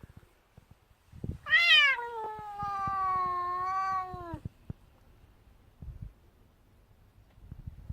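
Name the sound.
cat meowing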